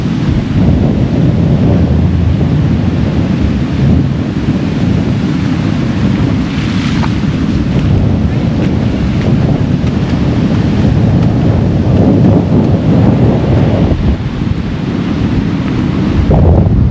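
Large ocean surf crashes continuously during Hurricane Erin, loud and close, with heavy wind buffeting the microphone throughout and no speech.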